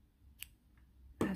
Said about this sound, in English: And I will cut off my green yarn